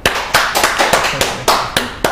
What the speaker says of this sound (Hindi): डॉक्टर अनम मुख्तार के लिए बहुत सी तालियां